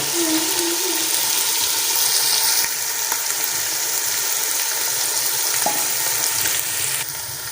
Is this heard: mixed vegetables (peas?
yes